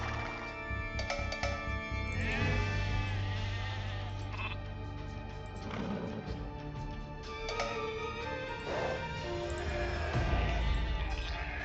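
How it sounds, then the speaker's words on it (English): Sheep bleat in Age of Empires II: Definitive Edition during the Genghis Khan campaign, with several clear, nasal bleats over a steady bed of game ambience and music. "Ah, sheep."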